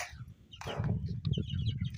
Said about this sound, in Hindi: ये मुर्गी देखे, मुर्गी के बछड़े